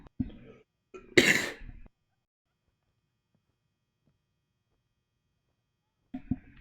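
A game character from Wasteland 3 clears his throat once, a loud, rough burst standing alone between short stretches of speech, with silence following.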